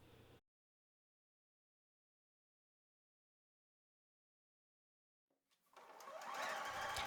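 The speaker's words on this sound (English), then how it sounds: "So then just sew all the way around this front edge, again using a straight stitch" A sewing machine starts up after a long silence and runs a straight stitch along the front edge of a bikini, with a close, loud, steady whirring clatter.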